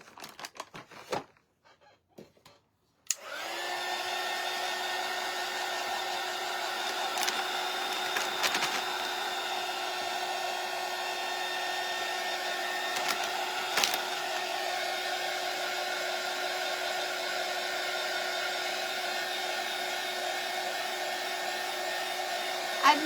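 A hair dryer blows on a craft shelf sitter, switching on after a few seconds of small handling clicks and then running as a steady, close, whining whoosh with a few faint knocks.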